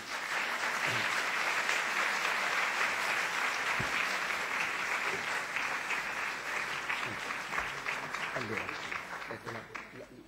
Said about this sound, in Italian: ecco un applauso che ci riscaldi